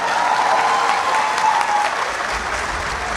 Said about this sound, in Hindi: इनके लिए बहुत भरपूर तालियां।